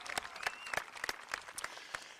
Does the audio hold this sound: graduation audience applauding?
yes